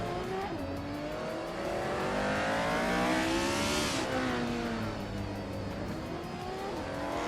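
A 2015 Ferrari FXXK hypercar in a racing video game roars continuously at high revs, its engine pitch climbing and shifting through gears alongside other cars, loud and steady throughout.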